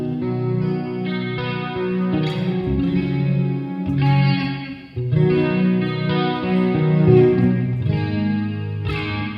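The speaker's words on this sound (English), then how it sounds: "It has the Fender Twin Reverb amp SIM here." ESP LTD M200DX electric guitar on the bridge pickup, clean tone through a Fender Twin Reverb amp sim and Fender 4x12 IR with effects, playing sustained chiming chords with a chorus-like shimmer, close and steady with no talking.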